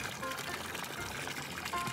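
Water gushing from a broken pipe in a children's cartoon, a soft continuous pouring and trickling splash lasting the whole moment, fairly faint with a light musical tone over it.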